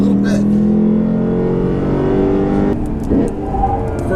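A 2015 Lexus RC F engine on a racetrack drones loudly with a rich, steady tone, briefly easing off near the end before building again.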